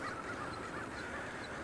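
Geese honk faintly in the distance at Willamette Park in Portland, Oregon, scattered calls rising over a steady outdoor background hum.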